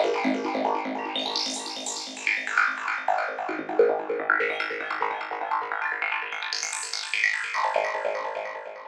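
Psytrance percussion built from Karplus-Strong plucked synthesis, with resonance and delay effects: rapid, dense plucky hits form sweeping pitch patterns that rise and fall, trailing echoes filling continuous loud sequence, with no voices.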